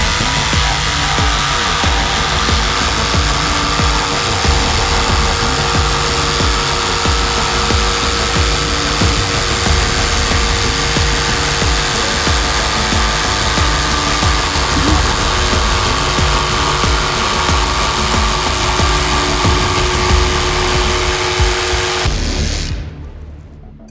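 A FLEX power tool cuts an arch through stacked plywood for an entryway, a loud sustained motor whine with cutting roar that runs unbroken for over twenty seconds, then stops abruptly.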